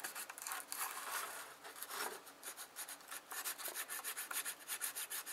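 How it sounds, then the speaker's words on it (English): A trimmed cardboard nail file rubs back and forth on the starter pawl of a model diesel engine, a close, soft rasping scratch in quick, steady strokes with no voices. "I'm using like a cardboard type nail file here, which I've trimmed down so that it'll fit"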